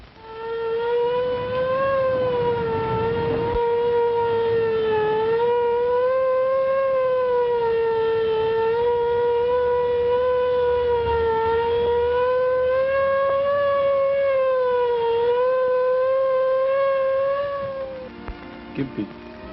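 Ambulance siren in a 1933 film melodrama, a loud, sustained wailing tone rising and falling slowly for nearly twenty seconds before fading out, with faint background noise underneath.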